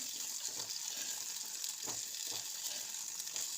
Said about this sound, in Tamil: ஒரு கப் அளவுக்கு சின்ன வெங்காயம் எடுத்து வச்சுருக்கேன் அதையும் சேர்த்து நல்லா வதக்கிக்கலாம்